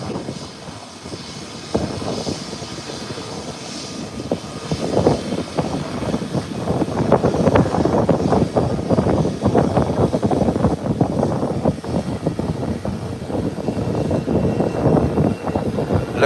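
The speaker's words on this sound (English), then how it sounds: "Look at this being taxied in." ATR turboprop airliner taxiing in at an airport, a steady loud engine drone with a gradual rise as it draws near, heard outdoors with some wind buffeting and no talk.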